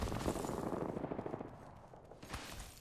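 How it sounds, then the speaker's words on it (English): Rapid machine-gun fire in a battle royale shooter, a fast rattling burst of shots up front, then quieter scattered shots, close and sharp. "I'm taking shots"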